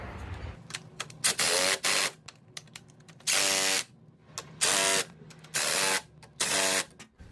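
A ratchet wrench tightens engine mount bolts on a Honda 2.4L, clicking in several close, rapid bursts separated by short pauses, with faint mechanical handling between strokes.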